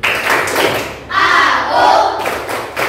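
A school class doing a rhythmic concentration clap routine, loud close bursts of many hands clapping and thumping in a patterned beat, with children's voices chanting along.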